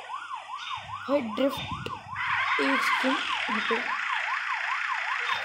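A police car siren in an open-world driving game wails in a fast, rising-and-falling cycle, loud and continuous, with someone speaking briefly over it before engine roar swells underneath.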